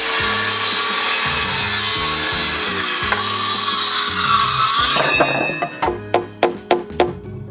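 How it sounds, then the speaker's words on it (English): A saw cuts through wooden floor joists on a house extension, a loud continuous grinding rasp for several seconds, then it stops and a series of sharp knocks and ratcheting clicks follow. "we're going to start cutting out and nogging all of our joists"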